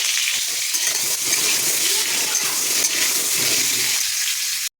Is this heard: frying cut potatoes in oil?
yes